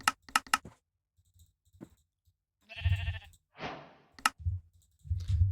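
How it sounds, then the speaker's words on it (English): A pink sheep in a video game bleats in a few short, wavering cries, mixed with clicky game sounds and brief bursts of effects, loud against otherwise quiet gaps. "A pink sheep."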